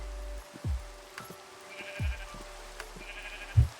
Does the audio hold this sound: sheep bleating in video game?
yes